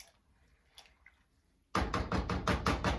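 A spoon stirs steel cut oatmeal and milk in a pot, loud rhythmic scraping and sloshing strokes starting abruptly after a near-silent pause, repeating steadily for over a second.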